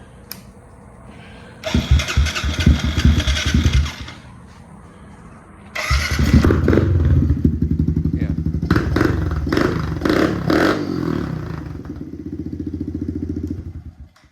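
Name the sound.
Kawasaki KLX110 pit bike engine starting and running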